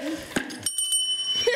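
A bell rings in a game show, two or three bright bicycle-bell-style dings close to the listener, with faint voices around them.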